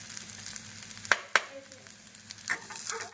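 Carrots, finely chopped onion and peas sizzle softly in a frying pan, with a couple of sharp scraping stirs of a spoon and a rising crackle near the end.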